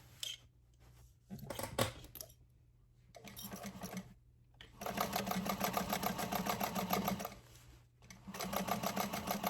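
A sewing machine stitches across a winter appliqué panel for a Chameleon bag, running in several bursts that start and stop at marks, with a long steady run near the end and short pauses between.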